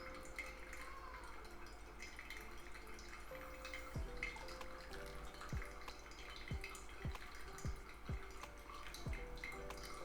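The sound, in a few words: pour-over coffee draining through the filter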